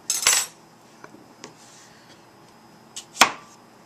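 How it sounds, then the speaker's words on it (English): A knife slices cucumbers into rounds in a kitchen, a few sharp metallic clinks and light taps on a board spaced irregularly, close and fairly quiet. "First, I can cut the cucumbers,"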